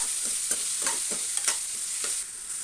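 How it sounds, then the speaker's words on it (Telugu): Tomatoes fry in a pan over a high flame for a dried-prawn tomato curry, a steady bright sizzle with a spoon scraping and stirring in quick irregular strokes, close and alone with no talk. "ఈ టమాటా ఇందులోకి వేసుకొని మంచిగా కొంచెం హై ఫ్లేమ్ మీద పెట్టుకొని మంచిగా గొలుచుకోవాలండి."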